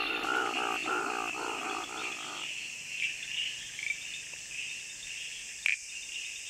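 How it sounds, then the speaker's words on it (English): Monsoon jungle chorus of crickets and frogs: a constant high cricket trill with pulsing frog calls in the first few seconds, then thinner insect drone with occasional faint chirps. "The jungle echoes with the calls of frogs and crickets."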